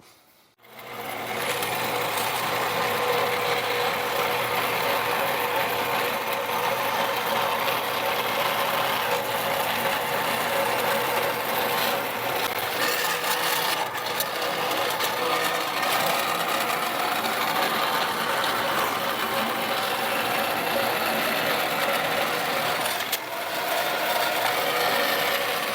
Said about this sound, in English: I'm going to go over to my bandsaw, cut this out real fast